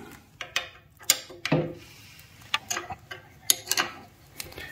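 A 10mm wrench and 5mm Allen key work on the adjustable side stand of a Yamaha Super Tenere, giving scattered metallic clicks, ratcheting ticks and light knocks at close range, with no speech.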